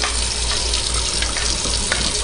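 Water swirled by hand while mixing rye berries to float off hollow, cracked grains, a loud, continuous close-up sloshing and rushing with small splashes throughout.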